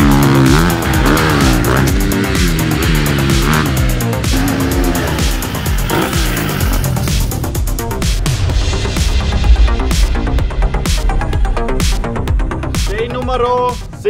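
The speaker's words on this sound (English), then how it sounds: "I thought the best way would be to try it on the motorbike." A motorbike engine revs hard and shifts pitch while riding over jumps, loud and close throughout, with rising and falling whines and a voice speaking over it.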